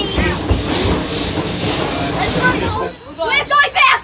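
A steam train at the Hesston Steam Museum rolls backwards on a steep gradient in a cutting, with a loud rumbling, hissing roll, and excited voices break in toward the end.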